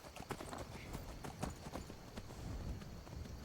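Horse hooves clip-clop steadily in Skyrim as a mount is ridden, a continuous moderate-level rhythmic patter of hoofbeats with no talking.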